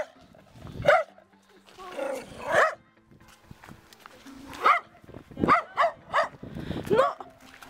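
Dog barks outdoors in an irregular series of sharp, fairly close yaps and woofs with short gaps between them, mixed with a few whimpering yips.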